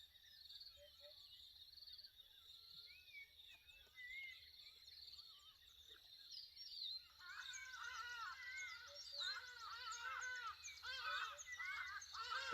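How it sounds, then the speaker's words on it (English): Birds chirp and call around a campsite in nature, high thin twitters that grow busier and more layered midway, with a faint insect hum underneath and no talking. "There's a lot of nature noises that you hear in this. There's birds, animals, bugs."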